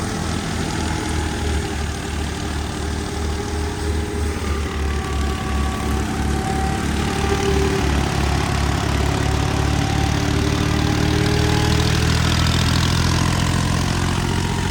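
A tractor drives a grain thresher, both in worn, weak condition, producing a steady loud mechanical drone with a pulsing low rumble that swells slightly in the second half, with no talking.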